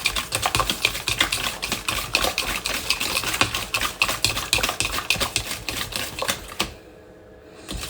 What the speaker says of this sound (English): I'm gonna mix this for a little more while so it's nice and creamy.